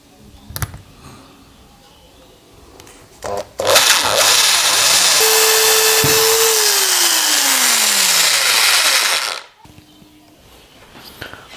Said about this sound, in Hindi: मैं इसको अभी छेदूंगा इसको ड्रिल मशीन से